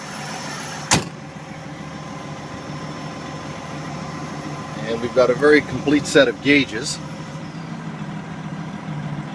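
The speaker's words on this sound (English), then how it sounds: "As you can hear, the engine is started." Engine of a 2005 Western Star 4900SA belly dump truck running at a steady idle, a low continuous rumble heard from the cab with a sharp click early on, while someone talks over it.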